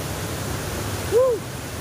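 A waterfall along the Citiis trail up Gunung Guntur rushes with a steady, broadband roar throughout. A brief rising-and-falling whistle-like tone cuts through it near the middle.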